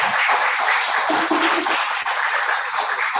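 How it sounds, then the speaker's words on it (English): A round of applause for a new member named Mary at a Rotary Club of Sebastopol Sunrise weekly meeting, steady dense clapping from a small room filling the moment without talk. "let's give Mary a round of applause"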